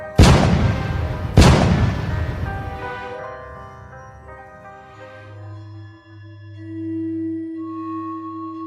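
Two heavy cannon booms about a second apart, each a sharp blast with a rumbling tail, followed by sustained low tones and a rising steady note, marking a death in a Hunger Games-style arena contest.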